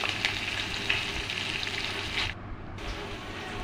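Chopped onions hitting hot oil in a wok with dried red chillies and bay leaves, a steady close sizzle with a few stirring scrapes, briefly dipping softer near the end.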